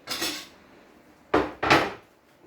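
Chopped carrot goes into a kitchen bowl while a Turkish haydari meze is made: three distinct close clatters of food and utensil against the dish, one early and two in quick succession a second later, with no speech.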